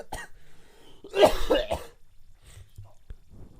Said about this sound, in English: I coughed right onto the microphone.